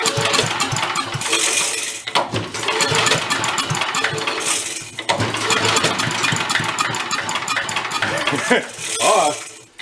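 A vintage Mite-e-Lite generator engine runs loudly and steadily for about ten seconds, its dense mechanical clatter dipping briefly twice as the revs sag and recover.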